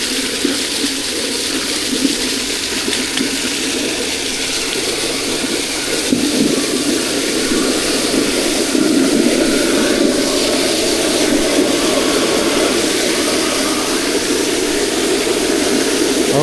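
Water gushes continuously from a fire hydrant being flushed, a loud, steady broadband roar that holds without letting up for the whole stretch.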